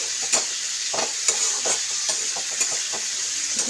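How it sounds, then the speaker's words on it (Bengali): Ground coriander and cumin fry in a hot pan, giving a continuous bright sizzle with regular spoon scrapes and taps spaced about every half second, close and with no voices. "এটাকে ভালো করে ভাজবো"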